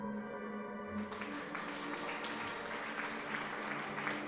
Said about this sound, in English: That round of applause is for you.